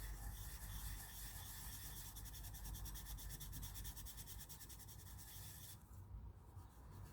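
A Faber-Castell Pitt pastel pencil scratches across paper in a steady, close dry rasp that runs throughout without any talking.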